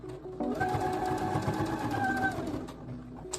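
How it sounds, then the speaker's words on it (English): A sewing machine stitches fabric in a steady, fast mechanical whir for about two seconds, close by, starting and stopping as the seam is realigned. "I'm actually going to realign this and sew a little bit more"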